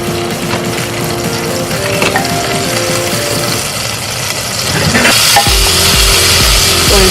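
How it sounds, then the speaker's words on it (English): Loud sizzling and crackling from a hot pan with butter, with clattering stirring noises and a sudden louder burst as garlic and onion hit the fat. "Going to add in my garlic and my onion. You want to hear that sizzle."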